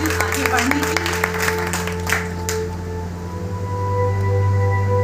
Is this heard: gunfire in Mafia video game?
no